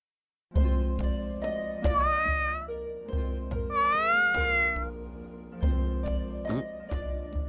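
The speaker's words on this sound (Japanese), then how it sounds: "猫" Cat meowing repeatedly in the Sword Art Online Alicization Lycoris video game, a series of clear, close, drawn-out mews with rising and falling pitch, some short and some long, over a quiet background.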